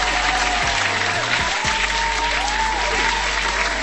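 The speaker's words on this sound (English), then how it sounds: "Hand clap for that." Hand clapping applause at a crypto livestream, a steady, even clatter of clapping that sounds added or canned, under a low constant hum with a few brief tonal sweeps.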